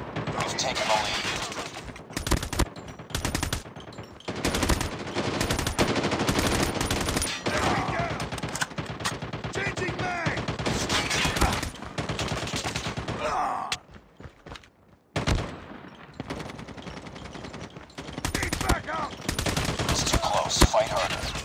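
Call of Duty multiplayer gunfire rattles almost without pause in dense automatic bursts, loud and close, with a short lull near the middle, while game voice callouts speak over the shooting.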